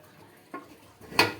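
A lid set back over a pan of sweet potatoes roasting on the stove, a light clink followed by a sharper metallic clatter as it settles, close and brief in a quiet kitchen.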